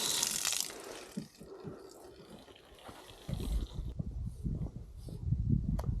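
Water running from a winter water tap at a campground in Peninsula State Park, a faint splashing and gurgling flow with scattered drips and clatter, fairly close but quiet.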